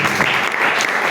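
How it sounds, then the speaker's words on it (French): Sustained clapping from an audience at a writing workshop opening, dense and even throughout, close and lively with no break. "il faut applaudir très fort."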